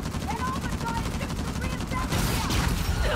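Gunfire from a vehicle in Uncharted: The Lost Legacy rattles in rapid repeated shots, which grow louder and denser toward the end, heard against a busy action mix.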